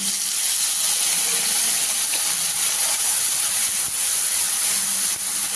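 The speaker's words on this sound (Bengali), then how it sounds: "ফোড়নের একটু ভাজা সুন্দর একটা গন্ধ আসার পরে এটার মধ্যে আমি এই আদা, পেঁয়াজ আর লঙ্কা বাটাটা দিয়ে দিলাম।" A paste of ginger, onion and chilli hisses steadily in hot oil for a Bengali rohu fish curry, with a loud, unbroken sizzle close at hand and no voices.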